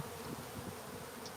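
A swarm of honeybees hums right around someone's face, a dense, low, continuous buzz that stays faint and steady without any voices.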